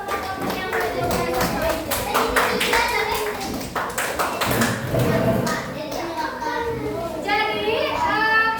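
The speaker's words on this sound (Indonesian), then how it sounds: "Kita berikan tepuk tangan untuk semua kelompok yang menjawab." Children in a fourth-grade classroom clap together, a dense run of loud hand claps mixed with children's chatter, and a teacher talks over the noise.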